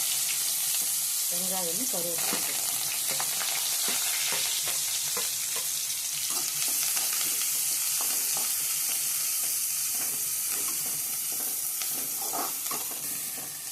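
Onion and curry leaves sautéing in a pan with mustard seeds and fennel, a steady close sizzle broken by frequent scraping stirs and a brief murmur of a voice.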